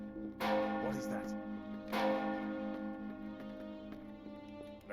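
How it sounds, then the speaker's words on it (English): Town bells ring in Lord of the Rings Online, two loud clanging strikes about a second and a half apart, each fading into a sustained metallic hum over quiet game ambience. "The town bells."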